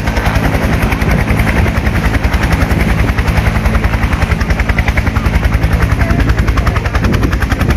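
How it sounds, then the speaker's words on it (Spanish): A police helicopter arriving with a detainee makes a loud, close, rapid rhythmic blade thump over a steady engine roar, unbroken throughout with no talk. "en estos momentos va a arribar el helicóptero"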